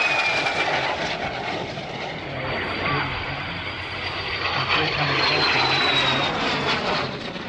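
A vintage jet aircraft flies past at an airshow with a sustained, whining roar that swells and fades gradually, while people talk over it.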